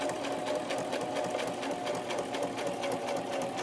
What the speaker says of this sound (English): Now on my regular sewing machine, I have a button that I can push and it will backstitch for me.